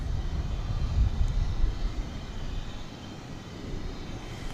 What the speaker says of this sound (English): I didn't realize until it was rolling that was the Reno Air retro livery on that 737